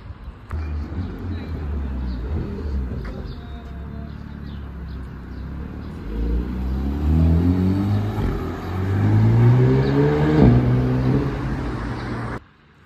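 A yellow sports car's engine rises in pitch as it revs and accelerates outdoors, growing louder toward a peak near the end before dropping away abruptly, with a voice talking over it and a bird faintly audible.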